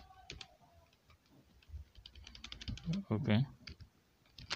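Someone types on a computer keyboard at a server terminal, giving scattered, quiet clicks and taps. A short burst of quick keystrokes lands in the middle, and a voice speaks briefly near the start.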